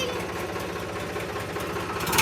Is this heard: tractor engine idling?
yes